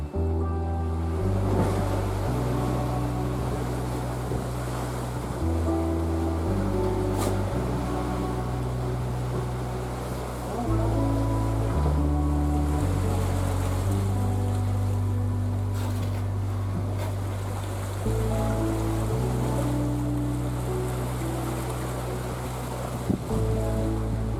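Water rushes steadily past a sailboat moving through the sea in a north-northeast breeze in the Bay of Biscay, with a low droning hum running underneath the whole time.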